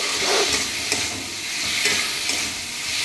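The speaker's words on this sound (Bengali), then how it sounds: "সর্ষে বাটা দেখুন নেড়ে চলে নেব" Black and white mustard paste being stirred and fried in a pan, a loud close hissing sizzle with repeated scraping stirs of a spoon rising and falling throughout, with no talk.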